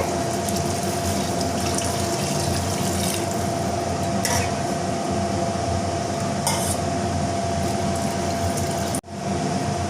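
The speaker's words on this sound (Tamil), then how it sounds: "நான் மூணு டம்ளர் தண்ணி சேர்த்திக்கிறேங்க" Three tumblers of water are poured into rice, lentils and eggplant in a pressure cooker, a steady close splashing pour that runs for about nine seconds and then stops abruptly.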